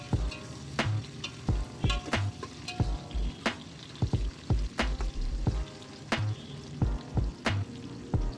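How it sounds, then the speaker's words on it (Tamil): Onions sizzle in a hot pan while a utensil clacks and scrapes against it in a steady stirring rhythm. "வெங்காயம் நல்ல பொன்னிறம் ஆகிற வரைக்கும் வறுக்கணும்."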